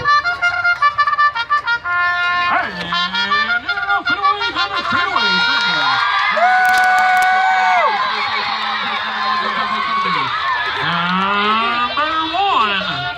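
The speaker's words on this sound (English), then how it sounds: "kids, remember, the louder you scream and cheer, the faster these little piggies are going to go" A crowd of children at a pig race screams and cheers loudly and continuously, high shrieking voices rising and falling together, with a bugle-like call mixed in.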